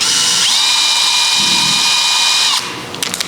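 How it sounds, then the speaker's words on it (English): A power drill with a 3/16 inch bit whines loudly and steadily while boring a pilot hole for a steering kit, then winds down into a few light clicks. "I'm going to start off by drilling all my necessary holes"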